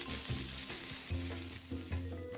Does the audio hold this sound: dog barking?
no